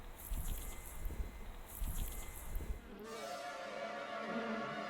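A dry, crackling hiss like frying fat from a spider rubbing its jaw hairs together, close and steady, with a rough rustling texture that softens partway through.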